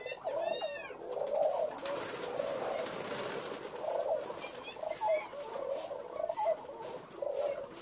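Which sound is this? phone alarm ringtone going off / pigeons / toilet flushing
pigeons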